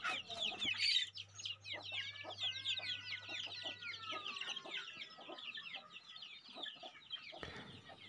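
Young chickens cluck and cheep steadily in a coop on a farm using oil palm byproducts, many soft overlapping calls at moderate distance, fairly quiet with a faint low hum beneath.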